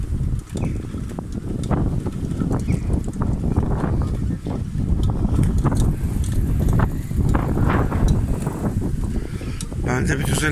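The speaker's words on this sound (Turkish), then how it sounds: "Rüzgardan da konuşamıyor insan ya." Strong wind buffets a phone earphone microphone while cycling, in continuous low rumbling gusts, loud and close throughout, with occasional voices faintly underneath.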